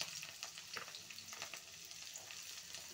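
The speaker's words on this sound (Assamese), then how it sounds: "এনেকৈ অলপমান সময় অলপ লাল লাল কৰি ভাজি ল'ম" Onions and potatoes fry with a soft, steady sizzle and faint crackles, low in volume, with no voices.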